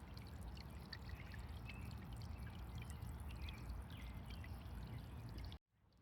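Water from a Saillong solar bird bath fountain spraying and splashing in a steady, faint trickling patter that stops abruptly near the end.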